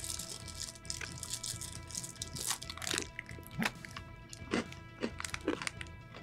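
Someone bites into a crunchy Canadian snack, making a quiet, close string of sharp crunches and cracks spread unevenly across a few seconds over faint background noise.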